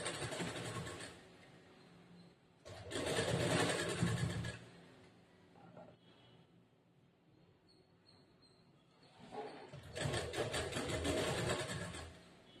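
A sewing machine stitches a second line over an existing seam on a blouse, running in steady loud bursts with a quieter pause in the middle.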